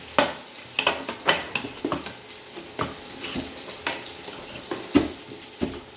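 Pancit bihon ingredients frying and being stirred in a pan, with soft sizzling under repeated sharp utensil scrapes and clinks against the pan at an uneven rhythm, close up.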